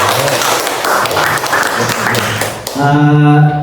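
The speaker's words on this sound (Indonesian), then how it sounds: "Tepuk tangan untuk kita semuanya." An audience at a school event claps in dense, even applause for most of the time, then the clapping stops and a louder tonal sound takes over near the end.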